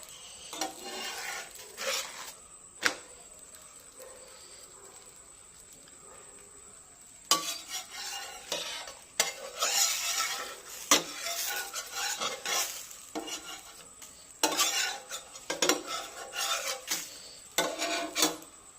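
Ghee melts on a chapati griddle stone with a soft sizzle, broken by intermittent bursts of scraping and rubbing, heard close and quiet with pauses and no voices.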